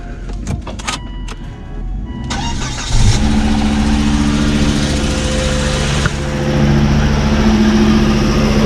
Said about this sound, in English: What we're going to do is give it a quick start up.